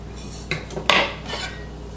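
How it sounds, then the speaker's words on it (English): A whisk works through cake batter and egg in a bowl, giving a few sharp metallic clinks and scrapes against the bowl, close and clear, with quiet gaps between strokes. "At this point, I'm going to go into the whisk."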